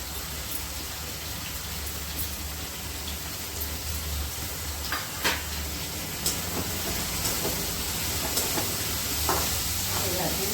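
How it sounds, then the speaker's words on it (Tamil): Curry leaves and coriander sautéing in a pan, a dense steady sizzle like rain on a surface with occasional sharper pops and stirring clicks, close and continuous without talk. "எல்லாத்தையும் நல்லா வதக்கணும்."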